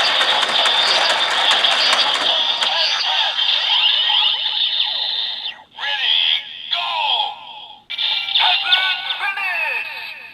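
A DX Full Full Rabbit Tank Bottle transformation toy plays its electronic final attack sequence: loud, bright synthesized jingles and effects in bursts with brief gaps, heard up close.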